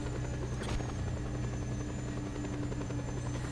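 A helicopter in the video game Just Cause 2 drones steadily with a dense, continuous rotor and engine hum, loud and close, holding an even level throughout.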